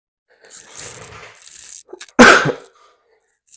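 A single person sneezes: a soft breathy wind-up builds for about a second and a half, then one sharp loud burst follows, close up and alone.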